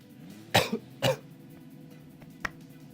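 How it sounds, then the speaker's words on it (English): A person coughs and clears their throat in two sharp close bursts, followed by a smaller cough a moment later, alone against a quiet background hum. "Coughing because of all the cutscenes."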